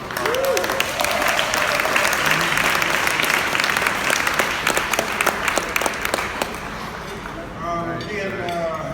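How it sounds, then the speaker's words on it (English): A room full of people breaks into a sustained round of applause, dense clapping running steadily for several seconds before thinning out toward the end. "so let's give them a round of applause"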